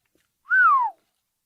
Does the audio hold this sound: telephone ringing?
no